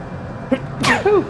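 A single sharp sneeze bursts out close by, preceded by a brief inhaled catch of breath.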